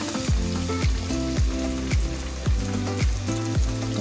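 Bangus (milkfish) frying skin-side in hot oil at home, a steady dense sizzle with faint crackles and a low repeating clatter of cookware underneath, close and continuous with no talking.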